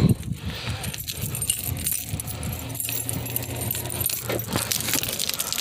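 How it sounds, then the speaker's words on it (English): Keys jangle and clink as they are pulled out of a pocket beside a stalled Plymouth Sundance, several short metallic rattles up close over a faint background hum. "Let me get the keys out of my pocket."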